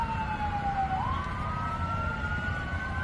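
A fire truck siren wails steadily at an airliner runway overrun accident, its rising and falling tone clear over a constant low rumble of vehicles and wind, with no voices.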